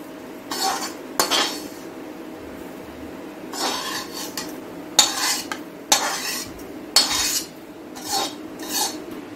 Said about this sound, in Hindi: ये देखिए रवा हल्का रोस्ट हो चुका है, अब हम इसको दूसरे बर्तन में निकाल लेंगे।